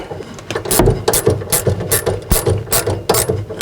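Hand crank turning the lift mechanism on a popup camper, producing loud, close ratcheting clicks in quick rhythmic bursts, one after another, with no talking.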